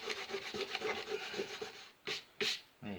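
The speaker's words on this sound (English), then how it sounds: "So we rub that out." Paint being rubbed out on a landscape painting, a dry scrubbing rasp repeating in quick strokes, close and fairly quiet, ending in a few louder separate swipes with short pauses between.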